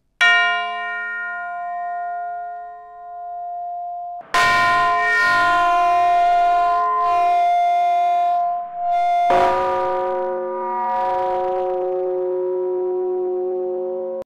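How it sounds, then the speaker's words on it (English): Tubular bells ring out in a few resonant strikes, each leaving long shimmering decays that overlap, with a softer ringing tone at the start. "Tubular bells."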